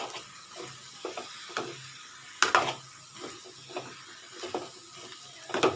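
Cut brinjal frying in hot masala while being stirred, irregular scraping and clattering of a spatula against the pan over a soft sizzle, moderately close.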